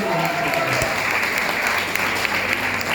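Sustained, dense applause from a seated audience at a Smart Value training session, loud and even for the full stretch with no voices standing out above it.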